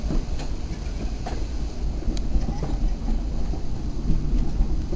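A train on the Frisco Silver Dollar Line rolls along its rails through woods, a steady low rumble with faint clicks and rattles, close and continuous.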